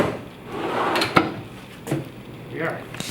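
A wooden drawer is pushed into a flat-pack wall pantry cabinet during assembly, making a sliding rumble that ends in a sharp knock, followed by a second softer bump and light handling noise.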